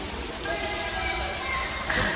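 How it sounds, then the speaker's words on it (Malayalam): Continuous heavy patter of artificial rain in a rain room in Sharjah falling on a surface nearby, a dense steady hiss with faint background voices. "നല്ല മഴയാണ് ആ നല്ല തണുപ്പ്"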